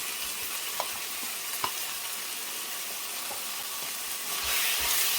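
Cream being mixed into ingredients in a hot pan gives a steady, soft sizzle with faint scraping stirs, growing slightly louder toward the end; no voices.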